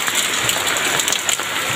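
Heavy rain falls in West Rembo, a dense, steady hiss of drops with no pauses, loud and close.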